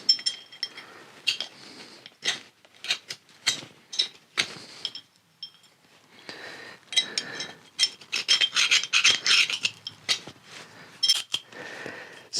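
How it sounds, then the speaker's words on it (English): Pieces of wood are tapped and scraped out of an axe head to free the old handle, giving sharp metallic taps and clinks in uneven bursts with rasping scrapes between them, close and fairly quiet. "I had to keep tapping on it until I got that handle out"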